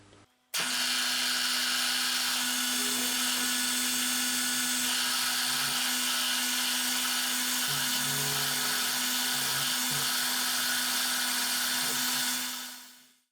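Drilling roll-pin holes through new steel drawbars for a ZX7045 milling machine, driven straight through without spot drilling: a loud, steady, close-up whine with a constant tone that runs unbroken for about twelve seconds, then fades out.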